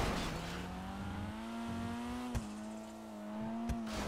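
A Dinka Shugoi car in GTA Online hums with a steady engine drone whose pitch climbs gradually, punctuated by two sharp knocks, with no talking over it.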